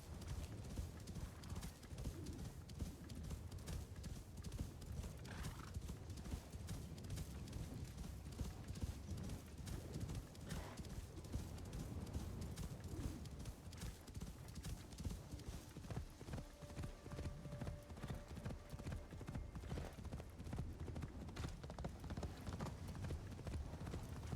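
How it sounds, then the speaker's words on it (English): Horse hooves trudge through snow in the video game Assassin's Creed Shadows, a steady muffled clopping gait that continues throughout, with a brief whinny, under a low wind-like game ambience. "This is really where the horse comes in handy, actually."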